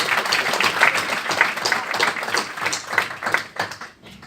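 An audience at a university lecture on Palestine applauds, a dense burst of many hands clapping that holds steady and then fades out toward the end.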